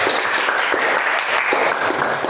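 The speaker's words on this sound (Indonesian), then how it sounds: "Tepuk tangan untuk kita." A classroom group bursts into applause, many hands clapping together in a loud, even wash that holds steady for a couple of seconds.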